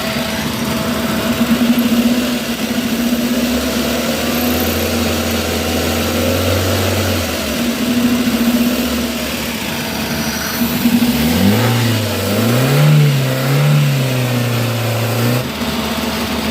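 A Chevrolet Beat with low pickup and a non-working AC compressor idles steadily, then revs up into rising and falling higher-rpm surges, loud and close with no voices.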